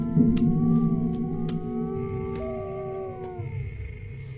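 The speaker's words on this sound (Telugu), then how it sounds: "కుక్క ఏదో విచిత్రంగా మురుగుతోందయ్యా." A dog in a movie scene makes a strange drawn-out growling howl, wavering tones over about four seconds against a low rumbling background, mid-distance and fairly loud with no talk.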